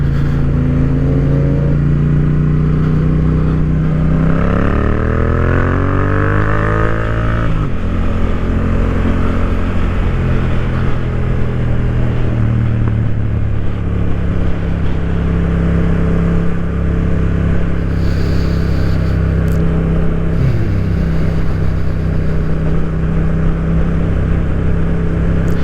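A Yamaha MT-07 motorcycle engine burbles and revs while riding along a busy coastal road, loud and close, with rising and falling pitch sweeps as it accelerates and shifts, over steady wind roar, no talking.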